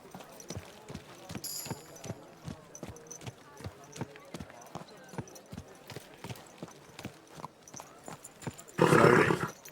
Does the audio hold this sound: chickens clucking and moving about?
no